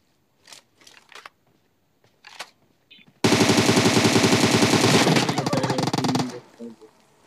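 Rapid, sustained automatic gunfire in the mobile battle-royale game PUBG Mobile, a loud continuous burst lasting about three seconds after a few quieter scattered shots, with a voice briefly heard before it.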